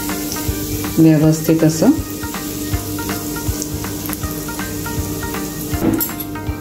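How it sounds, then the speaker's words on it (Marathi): Ground coriander, cumin, fennel and black pepper spice paste sautéing in hot oil for matar kachori, giving a steady sizzle with a few stirring scrapes, while a voice briefly speaks over it. "कोथिंबीर, जिरे, बडीशेप, त्याचं वाटण जे आहे, काळी मिरी वगैरे, ते आपण या तेलामध्ये छान असं परतून घेणार आहोत"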